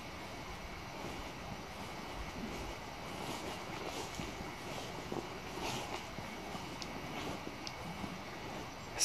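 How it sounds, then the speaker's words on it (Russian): Soft, continuous rushing of river rapids on the Belaya (Agidel) River, heard from some distance, with light wind noise over it. "Вон шумит перекат."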